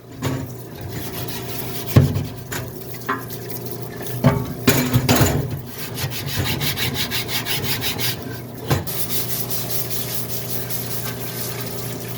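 A microfiber cloth wipes the transmission oil pan of a 1981 Mercedes 300SD clean, giving close, uneven rubbing and scuffing strokes with a few sharper knocks of the metal pan.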